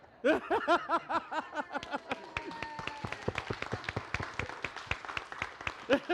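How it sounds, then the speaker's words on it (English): Round of applause for volunteers in a lively group session, brisk dense clapping that follows a burst of laughter and chatter, close and energetic. "Thank y'all for being the volunteers. Yes. Round of applause."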